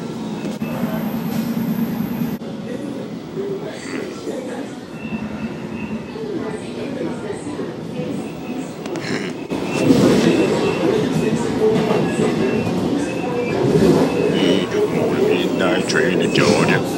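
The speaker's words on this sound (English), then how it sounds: "Midnight train to Georgia." A train rolls past on a MARTA rail line, a loud rumbling and rattling rush that swells halfway through, with faint wheel squeal and voices talking underneath.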